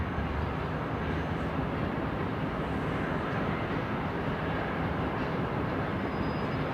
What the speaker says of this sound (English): Qantas 518 coming in from Sydney here on runway left.